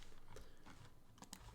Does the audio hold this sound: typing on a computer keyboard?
yes